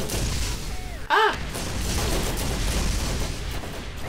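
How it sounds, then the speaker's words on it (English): A single loud explosive burst rises from the steady roar of a Borderlands firefight, combat noise from the finale battle against the Destroyer, with continuous rumbling gunfire and blasts filling the rest of the passage. "Explosions!"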